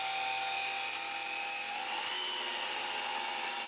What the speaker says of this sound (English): So I make another file to burn the numbers on the rings with my rotary axis